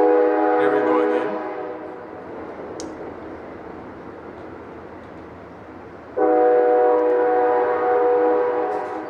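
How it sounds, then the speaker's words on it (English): A train passing close to an apartment building beside the track and a nearby train stop, its loud horn blaring in two long tonal blasts, the second rising sharply and holding steady, with heavy rumble between them. "if you guys see me vlogging and hear a train coming, just know"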